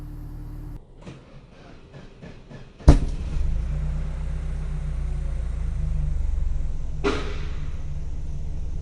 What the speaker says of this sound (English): There is a bang in the exhaust pipe and some other noise makes itself felt.